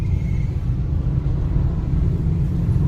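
Dense street traffic in Lala Musa, a continuous low rumble of cars and engines passing close by, with no voices over it.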